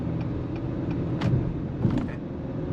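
A 2024 Acura RDX with a 10-speed automatic accelerates, a steady, muffled engine rumble heard from inside the cabin with slight swells as it pulls.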